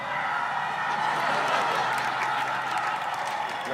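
People in a car on an Italian road trip cheer and clap after the stalled car is restarted, giving a dense, steady burst of applause and cheering close by.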